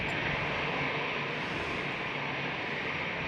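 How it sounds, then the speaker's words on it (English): An Air France Airbus A320 taking off at Amsterdam Schiphol airport makes a loud, steady roar of jet engines with a broad hiss, continuous and close throughout. "the one you hear making the incredible sound is this A320"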